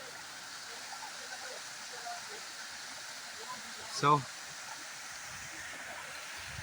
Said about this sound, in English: this is the waterfall. See the natural beauty of water from where it is coming.